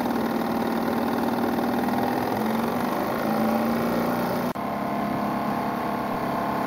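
A steam engine on a large steampunk machine battleship labors to raise heavy side armor through a clutch and giant pulley, giving a steady mechanical drone with a faint, slowly wavering tone and a brief click midway.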